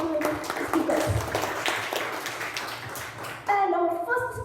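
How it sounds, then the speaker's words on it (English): An audience claps for speakers at a youth leadership program session, a brisk patter of hands, and then a voice starts talking near the end. "have a round of applause for all table topics"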